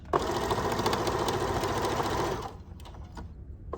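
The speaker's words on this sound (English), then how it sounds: "I'm going to continue stitching all the way down at a 1/4 inch" Sewing machine running fast, stitching a quarter-inch seam on a square pillow, a loud, close, steady mechanical whir that stops abruptly near the end, followed by a few light clicks.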